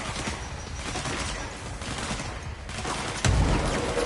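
Gunfire from an allied fighter in the game Control, a dense continuous rattle of shots close by with a heavier burst near the end.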